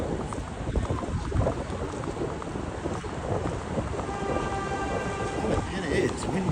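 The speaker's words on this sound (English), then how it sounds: "Oh, man, it is windy, friend." Wind gusts through the streets between Long Island City buildings in the rain, a steady rumbling buffet on the microphone with a faint voice underneath.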